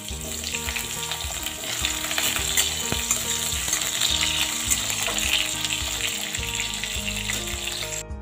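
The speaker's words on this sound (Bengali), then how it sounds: "এবার আমি আলুগুলো দিয়ে একটু ভেজে নেব।" Potatoes fry in oil with black cumin and a dried red chilli, giving a loud, steady sizzle with stirring scrapes throughout.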